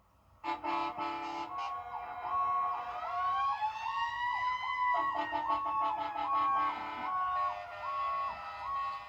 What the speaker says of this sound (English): Candy showers, sirens blasting, and people ready to have a good time.